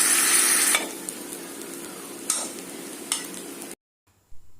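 Rice is stirred into a hot pan for coconut milk pulao, giving a steady sizzle with a few scraping stirs, before the sound cuts to near silence.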